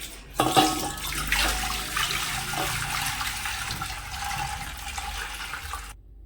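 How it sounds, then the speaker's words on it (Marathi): Water pours steadily into a metal cooking pot in a home kitchen, a close, continuous splashing gush that starts abruptly and stops cleanly near the end. "या टोपामध्ये पाणी आपल्याला काढून घ्यायचंय"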